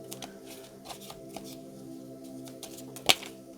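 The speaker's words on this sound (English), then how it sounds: "it's quite a large stack, so I'm going to try to shuffle them separately" Riffling shuffle of a large stack of tarot cards, a soft continuous flutter with a few light taps and one sharp snap near the end, close and fairly quiet.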